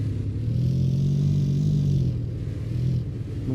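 A massive SUV-style truck at a Southwest Florida car meet rumbles with a deep, steady low engine drone, close and loud, sustained throughout.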